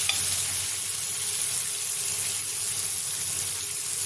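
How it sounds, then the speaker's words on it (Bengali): Spices frying in a pan for a spiced pointed gourd curry, a steady close sizzle that runs unbroken throughout with no talking. "একটু ভাজলেই মশলার গন্ধ চলে যাবে, একটু ভেজে নেবো।"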